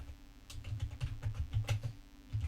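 Quick, irregular clatter of keys on a computer keyboard as a title is typed into a spreadsheet cell, soft and close with no talking.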